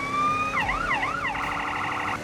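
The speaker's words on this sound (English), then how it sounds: "but same sirens" A police car siren in the Roblox game Greenville starts on a steady tone, swings into a few rising and falling wails, then breaks into a rapid yelp, loud and close throughout.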